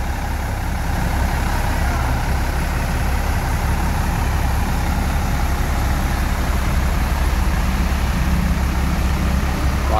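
A Hino truck, registration PA 7181, drives by in the rain with a steady low diesel rumble and broadband road and rain noise that stays loud throughout, with no voices.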